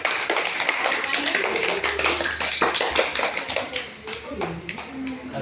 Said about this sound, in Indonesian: tepuk tangan untuk Ramadan